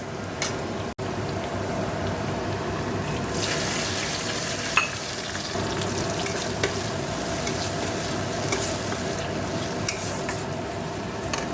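Meat stir-fried in a pan in a home kitchen for a Bengali Sunday meal: a steady sizzle and frying hiss with scraping stirs and small clinks, continuing throughout with no talking.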